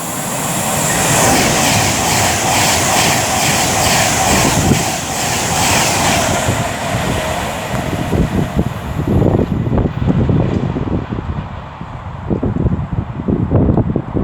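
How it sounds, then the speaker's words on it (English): Fast Avanti West Coast Pendolino tearing through Milton Keynes Central on the West Coast Main Line, a loud close roar with rhythmic wheel clatter that fades into rumbling and clacks as it passes. "Is that the first actual fast Pendolino to pass through here today?"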